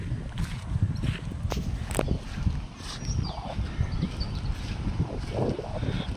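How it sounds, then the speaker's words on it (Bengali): Sea waves at Bakkhali beach, heard from a quiet eco park nearby, form a steady broadband roar of surf mixed with wind buffeting the microphone, continuous and fairly loud throughout. "সমুদ্রের আওয়াজটা ভালোই শোনা যাচ্ছে"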